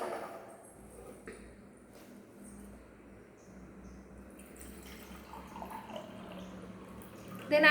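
Water is poured into a beaker during a school science activity, a soft, steady trickle that swells slightly toward the end over faint room noise.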